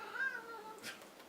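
A pet cat gives a single drawn-out meow indoors at home, fairly faint and close, rising then falling in pitch with a soft breathy tail.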